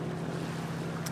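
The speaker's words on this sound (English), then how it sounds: "There's not much wind today, so we're motoring." A sailboat motoring under engine power on a calm, windless day among narrow island passages in the Gulf Islands, a steady low engine drone with a faint wash of water and air, continuous and moderately quiet.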